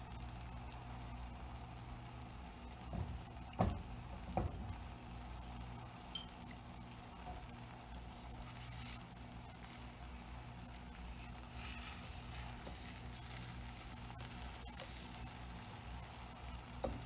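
A tortilla-style mixture cooks in a very hot pan, giving a faint, steady sizzle that runs throughout, with a couple of soft knocks early on and no talking.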